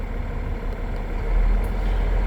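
A heavy truck engine idles nearby, a continuous low rumble that swells slightly louder partway through, with no voices.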